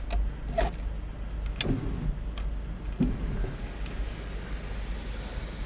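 Electric sunroof motor on a 2019 Toyota Sienna running inside the cabin, a steady low mechanical hum with a few faint clicks and knocks over quiet interior background.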